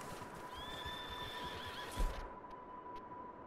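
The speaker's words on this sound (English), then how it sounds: "Nah, it's just a wild horse." A wild horse in Red Dead Redemption 2 lets out a long, high whinny over soft hoofbeats, followed by a brief thud as the call cuts off, with a steady tone underneath.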